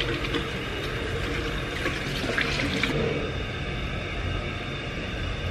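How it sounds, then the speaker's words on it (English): Hands are washed under a running water tap, the water hissing steadily and close by for a few seconds before the flow eases off. "Wash my hands."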